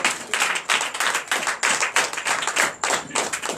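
A church congregation at a night deliverance and prophecy service claps in quick rhythmic bursts, a close, steady pattern of sharp claps repeating several times a second.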